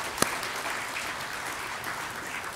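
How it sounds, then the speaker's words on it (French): Audience applause at a university congress speech, a faint, distant, even patter of clapping that runs steadily throughout after one sharp click near the start. "je demande, même si Sophie vous l'a dit, de les applaudir"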